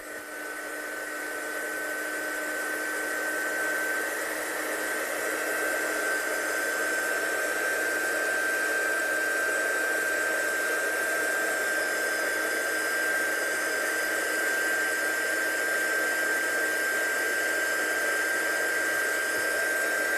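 A heat gun drying craft embossing blows a steady, even hiss with a constant high whine, running close and unbroken for about twenty seconds.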